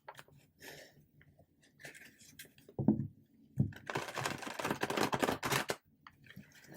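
Tarot cards riffle and slide together in a close shuffle, with soft handling taps before a longer, louder burst of shuffling near the end.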